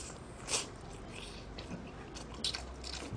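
Close-up biting and chewing of honey curry crispy fried chicken from Goobne during a mukbang, a crisp bite followed by soft wet mastication, quiet and near, with a second crunchy bite later.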